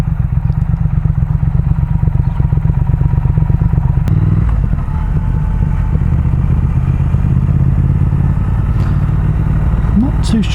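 A Triumph Speed Twin motorcycle engine rumbles steadily at low revs while riding slowly, a loud close throbbing pulse with wind noise throughout and a brief shift in tone partway.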